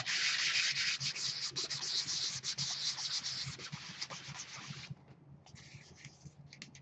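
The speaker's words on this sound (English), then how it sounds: "This is just a sanding block. It's a medium grit sandpaper." Steady, raspy sanding of EVA foam with a medium-grit sanding block, rapid back-and-forth strokes, loud and close, then shorter intermittent strokes after a brief pause.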